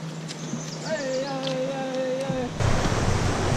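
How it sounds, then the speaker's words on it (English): Rushing water in the canyon at Havasupai swells into a broad, steady hiss partway through, following a brief high, wavering tonal sound over quiet outdoor background. "we're hearing some water off in the distance"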